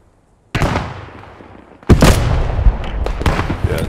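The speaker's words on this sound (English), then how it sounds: "Fucked up and fired a satchel off." A satchel charge goes off in the World War II shooter Squad 44, a loud sudden blast with a long rumbling tail, followed by a second even heavier explosion layered with crackling debris and sharp reports.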